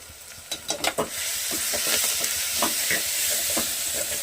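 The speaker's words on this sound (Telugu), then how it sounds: "తర్వాత వచ్చేసి కలపాలి." Chili powder being stirred into dal boiling in a pot for dosakaya dalcha, with a spoon scraping and clinking against the pot over a steady bubbling, sizzling simmer; no talking.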